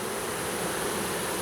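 A huge honey bee swarm of tens of thousands of insects gives off a dense, loud, unbroken roar of buzzing, close and even throughout with no voices.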